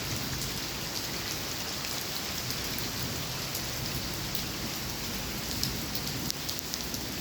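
Heavy rain pours steadily in Barka, Oman, a dense, even hiss of close drops hammering surfaces for the whole stretch, with no voices over it.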